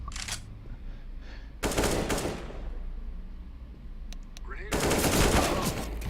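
Automatic gunfire rattles in the CS:GO video game in three loud rapid bursts with brief quieter gaps between them, with faint background game sounds.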